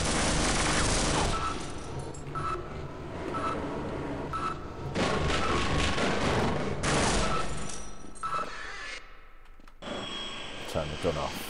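Gunfire in the shooter Half-Life, dense rattling automatic fire and booming shots that run almost continuously over a rumbling background, with someone talking over it.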